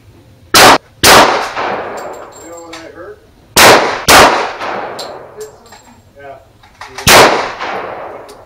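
CCI Stingers .22 LR rounds fired from an SR22 rifle, five sharp cracks in pairs and singles with ringing metallic clangs from the target between them, close and loud.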